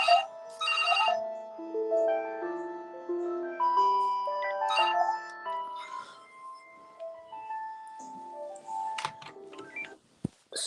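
A Panasonic cordless phone handset, one of four on the line, plays a melodic ringtone of stepped electronic tones that repeat in phrases, fairly close and clear, with no talking over it.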